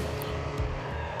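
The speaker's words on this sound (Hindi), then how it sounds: "ये ड्रिफ्ट वाले बटन से तो क्या गाड़ी ड्रिफ्ट हो रही है।" A car drifts in the Gangstar open-world video game, its tire squeal blending into a steady roar of engine and road noise over a short, continuous stretch with no talking.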